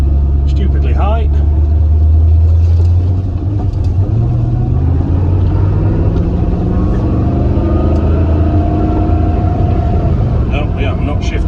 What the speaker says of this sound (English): It's not shifting and the revs are stupidly high.